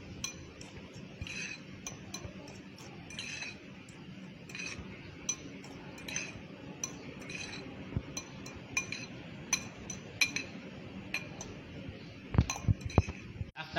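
A spoon stirring paprika, salt and garlic seasoning in a glass or ceramic bowl, with light repeated clinks and scraping, quiet and close, growing busier toward the end.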